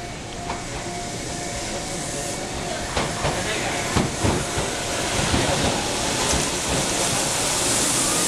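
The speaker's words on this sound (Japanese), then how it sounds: "まもなく坂本行きの到着です。" A Keihan 700 series train in retro livery pulls into a station on the Ishiyama Sakamoto Line with a steady rumble and hiss, wheels clicking as it arrives. A station announcement plays over the noise.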